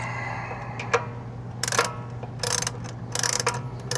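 Lug nuts on a Tesla Cybertruck wheel tightened with a ratcheting tool, giving short bursts of rapid metallic clicking separated by pauses, close and clear over a low steady hum, with no talking.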